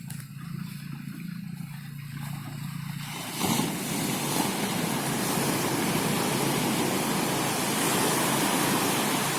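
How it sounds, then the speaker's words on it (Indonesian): Small waves wash onto a beach in a continuous broad rush, softer at first and then fuller, with no voices. "Walaupun ombaknya kecil dan tidak ganas"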